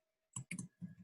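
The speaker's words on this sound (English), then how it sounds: "press tab key in your keyboard" Several quick key presses on a computer keyboard land as crisp, close clicks in an uneven little cluster, and a faint tone hums behind them.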